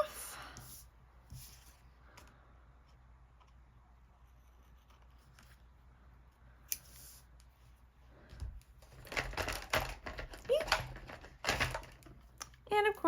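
Scissors snip through a paper cutout at close range, quiet crisp cuts scattered through the clip, growing busier and louder toward the end, with faint talk in the background.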